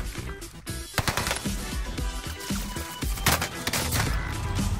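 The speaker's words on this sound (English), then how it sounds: "Who is shooting me now?" Warzone Rebirth Island video game gunfire, with dense bursts of automatic shots layered over loud, busy game sound and music, continuous and close throughout.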